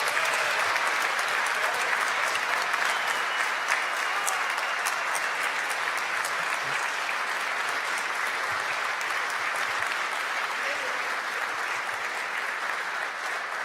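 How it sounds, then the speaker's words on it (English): A conference audience applauds steadily for the full stretch, a dense, sustained wash of many hands clapping at a constant level, with no talking. "So a big, big, big applause for guiding us to Entry 2024."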